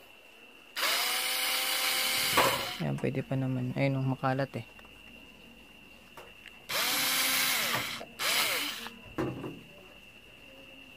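A power drill whirs in two bursts, each a few seconds long and close by, removing screws from a power amplifier, with a person talking between them.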